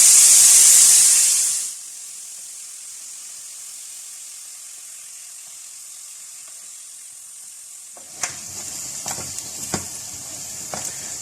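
Chopped onions hit hot oil for an achar gosht curry, a loud sizzling hiss at first that quickly settles into a steady low frying crackle, with a few stirring clatters near the end.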